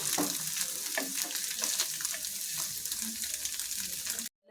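Egg being scrambled into small pieces in a frying pan, a loud continuous sizzle with scraping stirs, close up, cutting off abruptly at the end.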